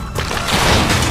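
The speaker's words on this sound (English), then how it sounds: "SMG." Dense, continuous submachine-gun fire in the zombie shooter Dead Nation on PS3, a loud rattling burst with crashing impacts that builds slightly over about a second, with no speech.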